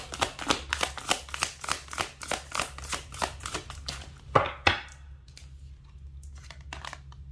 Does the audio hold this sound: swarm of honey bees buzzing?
no